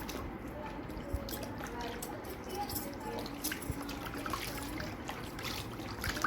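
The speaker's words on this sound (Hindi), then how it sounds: "अब हम इसको सादे पानी से वॉश करेंगे।" Plain water trickling and dripping while feet are rinsed after a curd scrub at home, a steady close wet splashing with faint squishes running throughout.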